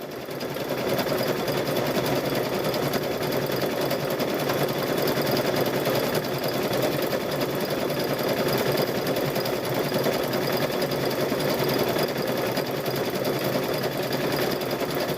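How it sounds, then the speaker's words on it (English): A sewing machine runs continuously while stitching straps for a quilted Halloween gnome wizard tote bag, a loud, steady, close mechanical whir with a fast rhythmic chatter throughout, no voices. "So we're going to stitch these straps."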